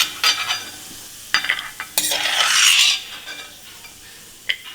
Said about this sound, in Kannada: ಬಾದಾಮಿನ ಚಿಕ್ಕ ಚಿಕ್ಕ ಪೀಸಸ್ ಆಗಿ ಕಟ್ ಮಾಡಿದ್ದೀನಿ. ಇದನ್ನು ಹುರ್ಕೊಳ್ಳೋಣ.